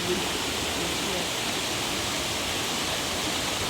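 Lisbon Falls waterfall in Mpumalanga, a steady, dense roar of rushing water that holds evenly throughout without pause, close and full.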